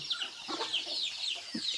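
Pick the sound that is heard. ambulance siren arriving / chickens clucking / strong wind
chickens clucking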